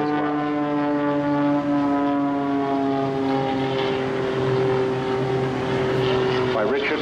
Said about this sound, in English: With this incredible muscle biplane